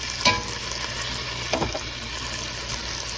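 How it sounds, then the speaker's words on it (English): Pork sears and caramelizes in a pot over a fireplace fire for country ribs, a steady soft sizzle and crackle broken by a couple of sharp stir clatters near the start and midway. "now we're getting the caramelization on our pork"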